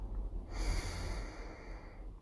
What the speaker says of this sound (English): Breathing in and out through your mouth.